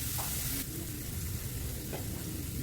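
Onions sautéing in butter in a pan while cheesy spaghetti sauce is being made give a steady, close, bright sizzle, with a brief stirring shift partway through.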